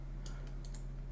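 A few quick, faint clicks from a computer mouse at a desk, spaced irregularly over a steady electrical hum.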